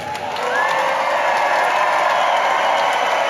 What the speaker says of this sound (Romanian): Faceți aplauze.